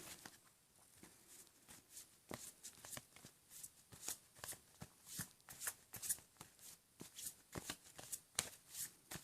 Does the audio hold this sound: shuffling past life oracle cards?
yes